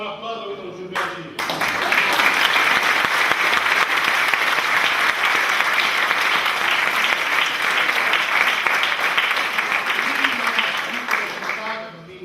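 A theatre audience applauds after a Sicilian dialect comedy in two acts, a dense, steady wave of clapping that swells quickly after a brief voice and carries on for about ten seconds before tapering, with voices mixed in.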